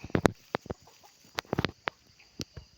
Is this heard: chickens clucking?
yes